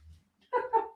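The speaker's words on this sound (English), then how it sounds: "She's barking at somebody." Single short dog bark near a house, a brief muffled woof heard once and fairly faint, with no talking.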